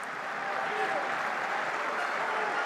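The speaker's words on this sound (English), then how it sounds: "Danny Priso gets a round of applause." Stadium crowd applauding as rugby player Danny Priso leaves the pitch during a Top 14 match between RC Toulonnais and Clermont, a steady, distant wash of clapping and crowd noise with no gaps.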